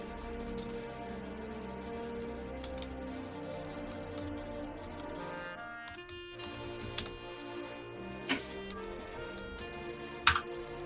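Computer keyboard typing at a table during a Dungeons & Dragons session: a steady patter of small key clicks with a couple of sharper taps near the end, heard over a continuous background hum.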